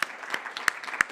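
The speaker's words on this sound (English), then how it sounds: "please join me in applauding our excellent panel." An audience at a conference session on West–Russia relations applauds the panel, a quick stretch of dense clapping with a few sharper claps standing out.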